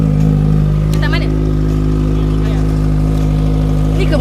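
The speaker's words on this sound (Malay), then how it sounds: "Ni ke motor yang Abel bawa selalu ke office kan" A motorcycle engine idles steadily close by, a constant low rumble running throughout while people talk over it.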